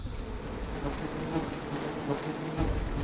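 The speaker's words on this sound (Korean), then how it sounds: "낯선 침입자의 방문에 벌들의 움직임이 심상치 않은데요" A dense, continuous buzzing swarm of agitated bees around a wild hive in a hollow tree about 15 m up, loud and close with no talking.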